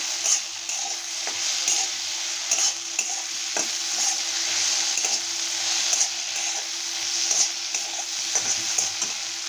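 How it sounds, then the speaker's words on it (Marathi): Okra sautéing in a pan with Maggi masala, a steady close sizzle with frequent scraping and stirring clicks of a spoon against the pan throughout, no voices. "आणि हा मॅगी मसाला थोडासा टाकते आणि परतून घेते"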